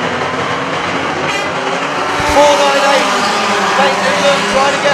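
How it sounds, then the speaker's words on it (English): Stock cars racing and crashing on the oval at Arena Essex: roaring engines sustain throughout, with a sharp impact jolt partway through, all under excited commentary. "517 just plowed into the tractor tyre, Wayne Benson going up on two wheels there."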